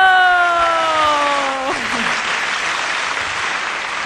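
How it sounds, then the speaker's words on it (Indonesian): Loud, close applause from a crowd at a church family retreat, swelling over a fading sustained tone and holding steady to the end. "kasih tepuk tangan buat Vando"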